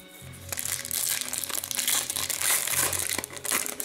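A 2007-08 Fleer Ultra hockey card pack wrapper being torn open, giving close, continuous foil crinkling and crunching for several seconds with no talk over it.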